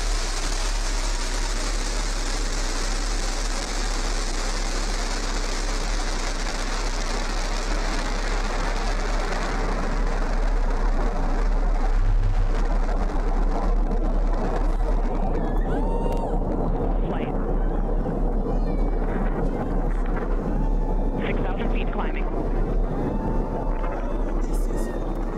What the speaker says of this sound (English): 1, ignition. Liftoff. New Shepard has cleared the tower.